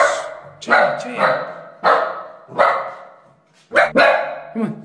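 A small dog barks sharply and repeatedly, close and loud, in a series of about seven yappy barks with brief pauses between them.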